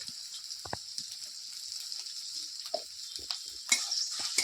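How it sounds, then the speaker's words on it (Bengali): Green chili paste masala with salt frying in a pan for a paneer and cauliflower dish, a faint steady sizzle punctuated by irregular scrapes and knocks of stirring, louder near the end. "একটু নাড়াচাড়া করে নেব"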